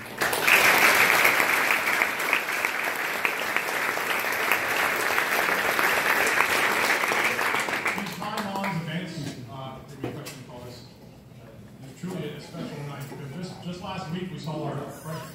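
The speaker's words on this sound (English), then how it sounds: "So, round of applause for them." Dense audience applause for drill instructors at an Officer Candidate School graduation in Newport, Rhode Island, loud and sustained for about eight seconds, then fading as a voice speaks over scattered last claps.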